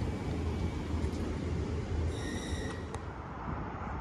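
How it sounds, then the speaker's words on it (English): Train 35231 at Milton Keynes Central during rush hour, a steady low rumble of rolling rail wagons with a brief faint squeal and tonal whine partway through, fairly quiet and distant, no talking. "Here's 35231, which is full and standing."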